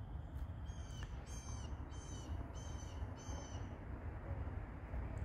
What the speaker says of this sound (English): I don't think this bird likes me.